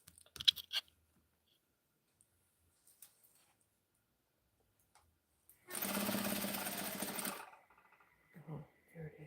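A sewing machine stitches fabric in one steady whirring run of about two seconds, close and moderately loud, after faint handling clicks and a quiet voice, with brief speech afterward.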